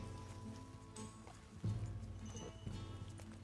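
In a video game, in the town of Valentine, a horse's hooves clip-clop in an uneven rhythm, with a heavier thud partway through, over a low steady background hum.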